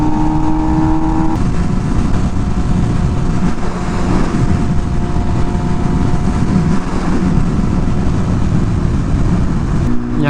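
MV Agusta Rush motorcycle cruising along a beach road, its engine a steady, loud drone with wind rush that runs unbroken for the whole stretch, with no talk over it.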